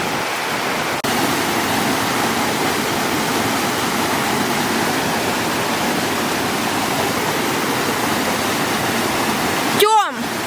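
A mountain river rushes steadily and loudly, a constant broadband wash that covers the whole stretch, with a brief squeaky sound at the very end.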